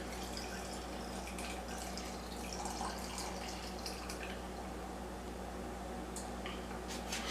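Cooled salt brine pouring over crushed tabasco peppers, a steady soft trickle and splash of liquid with faint drips, continuous and close, with no talking.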